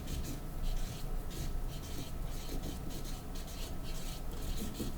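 A marker squeaks and rubs across chart paper in a first-grade reading lesson, with steady close strokes that come in repeated bursts and no talking.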